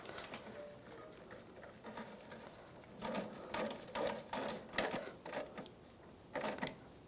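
Screws being driven while fitting the sensor cover and wiring harness on a 2009-2013 BMW 328i xDrive 3.0L I6: faint background hiss, then a cluster of short, clicky ratcheting bursts repeating close by from about the three-second mark.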